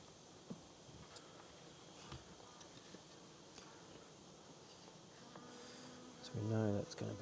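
Steady, faint buzzing of many honey bees at a hive, with occasional soft knocks and footsteps nearby and a brief louder thud near the end.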